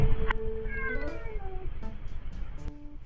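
A cat meows in a series of drawn-out, wavering cries, close and clear over a low domestic background hum, followed by softer clicks and rustles.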